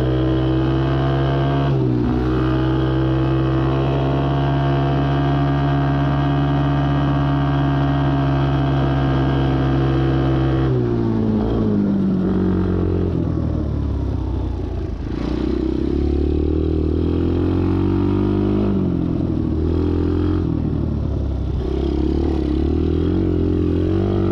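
A motorbike engine on the move, a continuous close drone with shifting pitch as the rider accelerates and eases off, some clatter mixed in, no voices.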